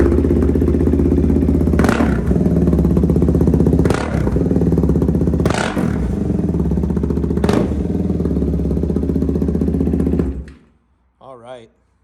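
A KTM 390 Duke fitted with a Dominator exhaust idles loud and close with a steady throbbing drone, punctuated by four periodic revs, then shuts off abruptly near the end, leaving a brief murmur.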